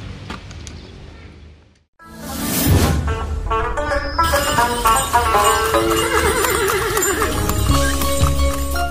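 A horse neighs loudly and close by, a long whinny rising over a busy full mix of music and background sound, with a horse-drawn bendi cart as the traditional setting.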